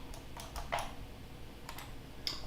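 A handful of faint, scattered keystrokes on a computer keyboard as a Linux terminal command is entered, quiet and sparse over a low background hum.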